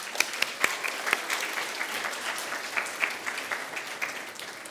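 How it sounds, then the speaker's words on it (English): Schoolchildren at a junior school clapping together in a room, a dense steady patter of many small hands that carries on without a break and with no talking over it. "Round of applause."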